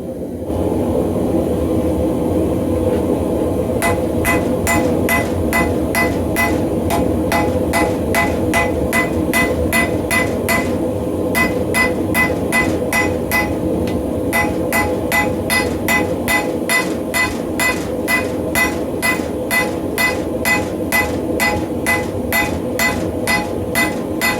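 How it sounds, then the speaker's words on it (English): Sharp, ringing cross peen hammer blows strike hot railroad spike steel in a steady rhythm, pausing briefly twice, over a constant roar from a nearby forge. "We're going to start using the cross peen on the hammer to stretch that blade out wider."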